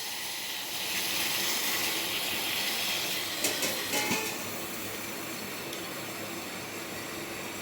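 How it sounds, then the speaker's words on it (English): Water boiling at 100 °C in a science demonstration of liquid turning to vapour gives a steady, close broadband hiss of steam with a faint bubbling texture, no voices. "So now the water is being boiling here."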